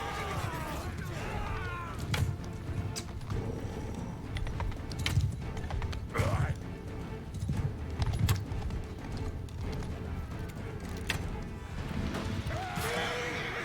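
Cavalry horses galloping in a video game battle, steady clattering hoofbeats mixed with clashing and crashing noises over a continuous din, with a voice talking at times.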